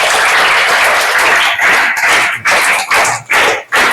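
Applause from a school audience at a Children's Day program as a child performer is welcomed, loud sustained clapping that breaks into short bursts with brief pauses toward the end.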